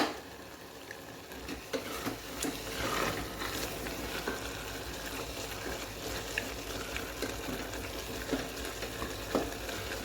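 Fenugreek leaves frying in a pan, a steady soft sizzle with intermittent stirring scrapes throughout, fairly quiet and without speech.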